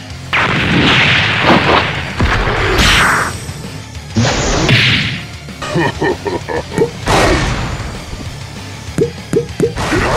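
Several loud bursts and crashing booms from explosive eggs in an Angry Birds plush skit amid whooshes and chaotic game sound effects, with voices exclaiming in between; a rapid series of sharp hits near the end.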